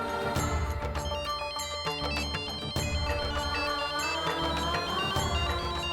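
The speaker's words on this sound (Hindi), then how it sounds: "हापुड़ साहब के मैनेजर का फोन आ गया।" A melodic phone ringtone plays loudly and continuously, a bright repeating electronic tune with no voices over it.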